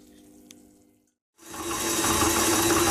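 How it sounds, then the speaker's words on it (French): Thick sugar syrup boiling hard with big bubbles in a pan for an apple meringue dessert, a loud, dense bubbling hiss that begins abruptly after a brief quiet pause and continues steadily. "quand on obtient de grosses bulles comme ça, c'est que mon sirop est prêt"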